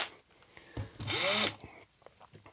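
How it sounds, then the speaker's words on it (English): A power drill with a 4mm bit bores into a metal cash box in one short, loud, close burst, the motor whine rising and falling in pitch, with light handling clicks around it. "So I am just going to use a 4mm drill here."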